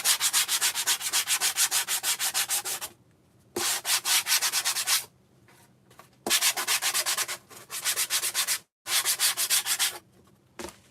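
Old finish is scraped and sanded off a wooden sign in loud, rapid back-and-forth rubbing strokes, grouped in bursts of about three seconds separated by short quiet pauses, close up and without talk.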